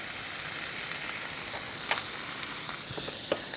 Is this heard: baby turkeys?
no